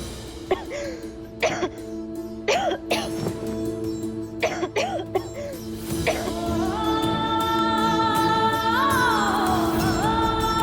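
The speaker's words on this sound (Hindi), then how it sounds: "ये इतना क्यों खांस रही है?" A woman coughs repeatedly in short harsh bursts, close by, then breaks into steady, sustained sound for the final few seconds.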